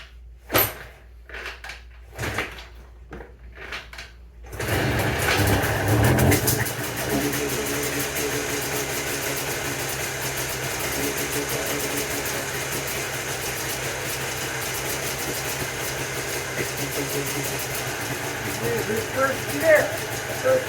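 A Jawa 350 motorcycle from a restored barn find sputters with a few uneven attempts, then catches and settles into a steady, loud running idle that holds nearby for the rest of the stretch.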